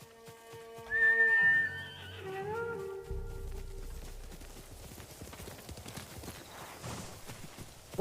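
In the Ghost of Tsushima video game, a horse lets out a loud whinny, then its hooves clip-clop away in a steady gallop that grows quieter.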